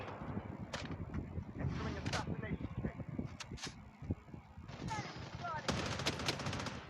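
Gunfire in the mobile shooter Blood Strike, with rapid bursts and scattered single shots cracking close by and an excited voice talking and shouting over the action.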